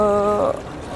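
Water is poured onto waterproof technical fabric rated above a 20,000 mm water column, giving a steady rushing splash that begins with a faint tonal hum and then settles into a softer wash.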